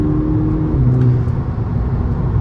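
A VW Golf Mk6 GTI accelerating with brief wheel spin, heard as a loud, steady, low engine drone with road whir from inside the car, alone without talk.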